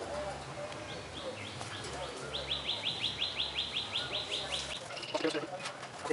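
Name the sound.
Chila pigeons cooing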